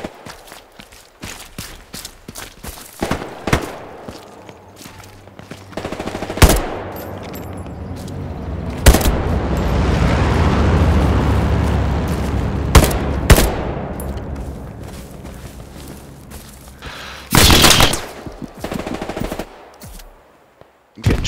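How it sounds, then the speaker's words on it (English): Gunfire in the World War II shooter Hell Let Loose, with scattered single shots, sustained machine-gun bursts and loud nearby cracks over a rumbling battlefield, plus occasional footsteps. "I'm getting shot from east"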